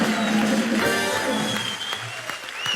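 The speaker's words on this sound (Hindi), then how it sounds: "एक बार जोरदार तालियां हो जाए" An audience at a live comedy show applauds briefly at moderate volume, with whistle-like tones and other stage sounds mixed in, easing off partway through before picking up again.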